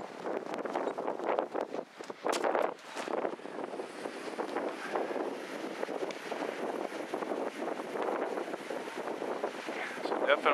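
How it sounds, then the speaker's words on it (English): An HY-1000L wind turbine runs outdoors in a strong south-southeast wind, a steady, rough, whooshing roar with gusty buffeting against the microphone that continues throughout. "Go outside and take a look at the actual turbine here. It's kind of noisy."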